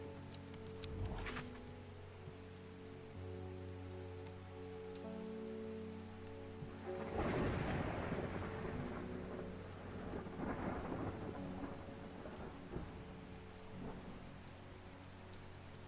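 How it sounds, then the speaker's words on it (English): Rain falls steadily in the video game Strange Horticulture, with a sharp thunder crack near the start and then a long, loud rolling rumble of thunder crashing over the hiss of rain. "Oh, it's raining today."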